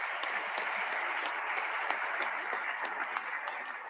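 A crowd at a girls' varsity hockey opening ceremony claps steadily for about four seconds, a dense, even patter of many hands heard at a moderate distance, with a few sharper individual claps popping out.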